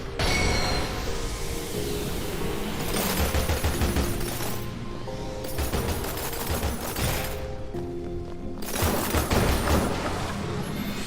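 Video game gunfire crackles in dense, sustained bursts for about eleven seconds, loud and busy, with brief pauses between volleys and no voices over it.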